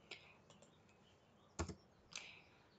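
A handful of sharp, close keystrokes on a computer keyboard as a search term goes into a browser address bar, tapped in a short irregular burst against a quiet room.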